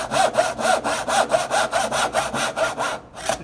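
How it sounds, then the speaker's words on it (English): Handsaw cutting wood to a marked line for a dovetail joint: about a dozen rhythmic back-and-forth rasping strokes, close and steady, pausing briefly near the end before one more stroke, with no talk. "I'm sawing down to my line, but I'm staying a little ways away from my actual line"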